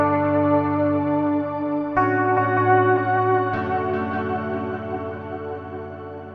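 A guitar played through the delay and echo effects of a Line 6 HX Stomp pedal, sustained chords changing twice with repeating, swirling echoes trailing behind.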